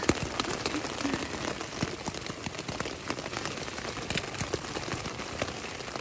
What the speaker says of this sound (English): and it is pouring down rain.